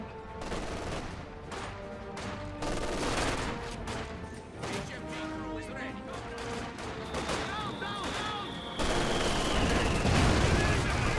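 Bursts of rifle and machine-gun fire crackle through a Company of Heroes 2 battle, with a heavier mortar impact near the end, while a game announcer voice speaks over the din.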